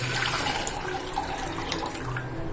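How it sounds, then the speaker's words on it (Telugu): About a litre of water is poured into a pot on a stove, a continuous steady splashing stream heard close and fairly loud for its whole length, with no talking. "ముందుగా ఒక స్టవ్ మీద ఒక గిన్నె పెట్టుకొని అందులో 1 లీటర్ వరకు వాటర్ పోసుకొని మరిగించుకోవాలి."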